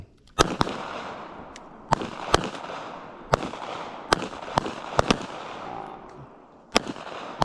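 Handgun fire at a shooting range: about ten sharp, loud reports at irregular intervals, some in quick pairs, with short gaps and faint background noise between them.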